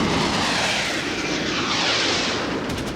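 Military jet aircraft roar loudly and continuously overhead during an Israeli strike on Egyptian airfields, a dense, rushing engine wash with no voices.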